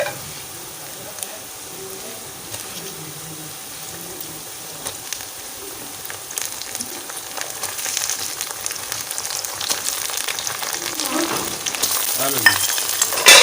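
Meat goes into a pan of browned onions for Shimla chicken and fries with a soft crackle that gradually grows louder and busier, ending in a stronger sizzle and stirring scrapes.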